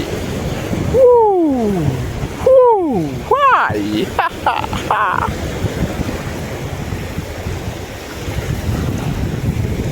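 Ocean waves wash onto the sand at Patenga sea beach, a steady broadband rush under strong wind buffeting, with a few brief sweeping voice-like calls near the start.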